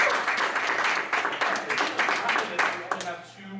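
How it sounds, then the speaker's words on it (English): Audience at an anime convention game show clapping in a round of applause, a dense burst of many hands with a voice talking over it as it fades. "you can give a round of applause for that"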